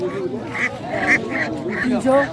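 Ducks quack at a village poultry market where ducklings are being sold, several short nasal calls in quick succession, close and clear, with voices around them.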